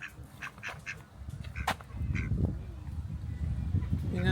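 Ducks on a lake give a few quacking calls over a steady outdoor ambience with wind noise, the calls short and moderately near.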